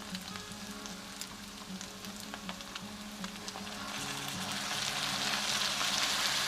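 Liquid stock hits a hot pan already fragrant with cooked garlic for a keto shepherd's pie, a steady close sizzle and crackle that swells louder toward the end.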